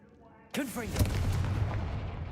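Fiery Confringo spell blast cast in Hogwarts Legacy, a sudden loud whooshing burst that erupts into a booming explosion and a sustained rumbling roar afterward.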